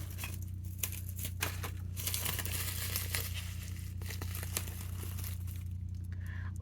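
A package is cut open and unwrapped, with crinkling and tearing of wrapping, scattered sharp crackles and rustles at moderate to faint level over a low steady hum.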